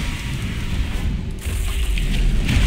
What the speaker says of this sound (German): Der Regen tut weh.